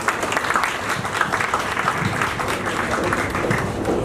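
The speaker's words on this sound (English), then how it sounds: "I'd like to invite you in a special way to give them a warm applause." Warm applause from an audience at a 40-year celebration of Sacred Heart Hospital in Jalandhar, loud sustained clapping from a close crowd filling the whole stretch.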